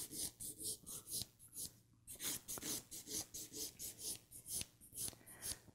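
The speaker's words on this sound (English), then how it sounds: "this is your 5th step in filing, and bevel down towards the tip" A hand file rasps back and forth over a short sculptured acrylic nail, bevelling toward the tip in quick, steady, close strokes, with a brief pause partway through before the scratchy rhythm resumes, no talking.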